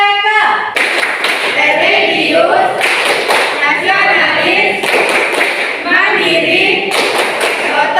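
A group of students and their teacher perform the PPK clap chant in a classroom, with loud rhythmic handclaps in regular bursts alternating with voices chanting words in unison.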